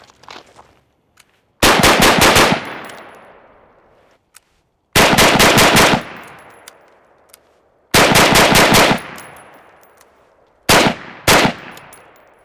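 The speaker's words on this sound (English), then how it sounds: "Let me shoot some splits." Galil ARM rifle fired in rapid split-shot strings: four loud bursts of closely spaced cracks, each trailing off into a short echo, with quiet gaps between strings and no talking.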